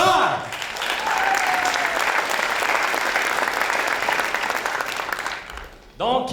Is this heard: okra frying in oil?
no